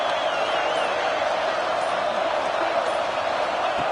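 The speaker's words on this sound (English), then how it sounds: "And here comes the noise. This crowd is trying to inspire this defense to make a big red zone stop." A steady, loud roar from a football stadium crowd during an Oregon vs Washington game, rising to urge the defense toward a red zone stop. The wash of noise is constant, with no break.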